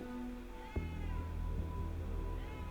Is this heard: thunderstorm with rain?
no